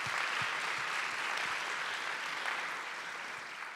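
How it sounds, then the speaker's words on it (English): Continuous applause from an audience at a university distinguished alumni awards ceremony. The clapping is dense and sustained, heard from a moderate distance in a large room, and eases slightly toward the end. "A round of applause to our alumni community,"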